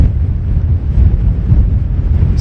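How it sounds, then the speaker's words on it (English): Strong wind batters the microphone on the cliff tops at Bennan Head on the Isle of Arran, a loud, constant low roar with no voices. "It's very windy up here, it really is blasting"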